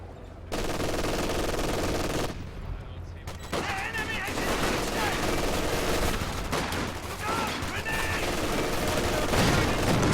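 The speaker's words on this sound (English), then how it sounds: "Spots the MG42, trying to pin him down left." Sustained MG42 machine-gun fire rattles through a World War II strategy game battle, dense continuous bursts with short pauses, loud and close, layered with other gunfire.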